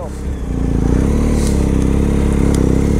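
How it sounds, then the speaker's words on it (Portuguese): A motorcycle rides back along a road at night, its engine putting out a close, steady pulsing rumble, with excited voices talking over it. "ele tá de moto, ele tá voltando"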